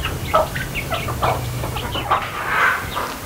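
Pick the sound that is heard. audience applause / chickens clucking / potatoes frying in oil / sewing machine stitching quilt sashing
chickens clucking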